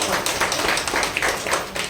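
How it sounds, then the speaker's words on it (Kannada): An audience claps for teachers performing a short school play about Kittur Rani Chennamma and Sangolli Rayanna: dense, steady, enthusiastic applause from many hands, sustained without a break. "ಇವ್ರಿಗೂ ಕೂಡ ಜೋರಾದ ಚಪ್ಪಾಳೆ"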